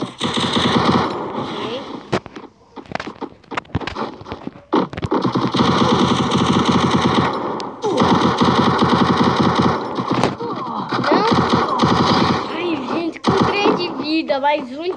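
Rapid automatic gunfire from a video game, with dense machine-gun bursts crackling in long, loud stretches separated by brief pauses, while someone talks excitedly over the shooting.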